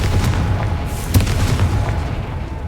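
In Hogwarts Legacy, a Confringo blasting curse explodes as a loud, close boom that rumbles for a moment, with crackling bursts over a dense low roar.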